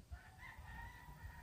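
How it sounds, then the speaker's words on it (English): Roosters crowing outdoors on a mild late-fall day, a faint, distant drawn-out crow heard over quiet ambient background. "Listen to the roosters crowing over here."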